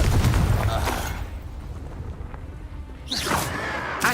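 Fiery Confringo spell blast from Hogwarts Legacy gameplay, a loud booming burst at the start that rumbles and fades, followed by a second sharper impact near the end, with game effects throughout.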